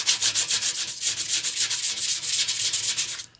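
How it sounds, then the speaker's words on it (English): Hand sanding of Bondo filler on a Honda motorcycle gas tank dent with coarse-grit paper, producing a quick, steady series of close, loud rasping strokes that stop abruptly at the end, with no voices. "You're just kind of removing the big material with this grit, and then I'll feather the edges with a 180 or higher."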